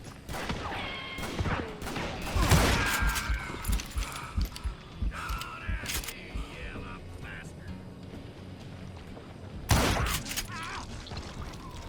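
A western shootout in Call of Juarez Gunslinger, with scattered gunshots cracking among clattering hooves and general commotion, a heavy blast near the start and another late on, plus faint voices in the background.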